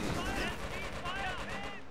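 A Quad 50 anti-aircraft machine gun in the strategy game Company of Heroes rattles in a rapid continuous stream of heavy rounds, loud and dense, with voices talking over the battle.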